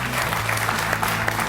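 A studio audience claps for a stretch on the Georgian comedy game show 'Make Me Laugh and Win', a dense, steady burst of applause that stays level throughout with no talk over it.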